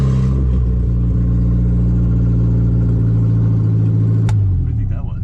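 A go-kart engine runs loud and close, a steady buzzing revving drone with strong low harmonics that holds level and then drops off near the end, with a person talking over it.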